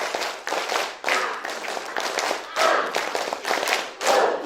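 A group of women clapping in a rhythmic counted pattern during a community health session, repeated bursts of several claps each, close and fairly loud, with slight unevenness between hands.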